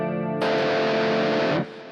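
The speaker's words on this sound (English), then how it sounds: "I would just use a clean amp on the IR-200 and a distortion effect in the MS3." An electric guitar plays through a Boss MS3 distortion effect into a clean amp on a Boss IR-200, switching from a clean chord to a loud, thick, sustained distorted chord that cuts off abruptly.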